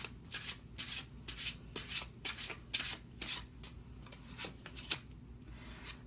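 Tarot cards being shuffled by hand, a quick series of soft riffling and rubbing bursts in an irregular rhythm, close and quiet with no voices.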